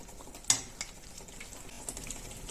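A spoon stirs ginger garlic paste and salt into hot oil in a pan, with one sharp clink against the metal early on, then soft scraping and a low sizzle, close and fairly quiet.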